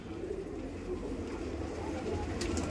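Domestic pigeons, including a yellow bird among desi high-flyer breeds, cooing softly in a pen over a constant low rumble of background noise, with faint clatter nearby.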